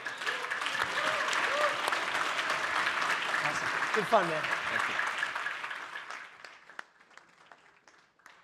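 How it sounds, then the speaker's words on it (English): Conference audience at SmartCon 2022 applauds a speaker named Kain, steady clapping for about six seconds before thinning out, while a voice speaks briefly over it near the end. "Can we give Kain a round of applause?"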